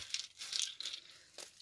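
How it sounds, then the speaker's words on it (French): Wooden stamps knocking and clattering against a glass plate during a craft unboxing, a quick flurry of sharp, bright taps and rattles up close, fairly faint, with no talking. "c'est une plaque de verre en dessous, donc quand ça cogne, c'est très désagréable."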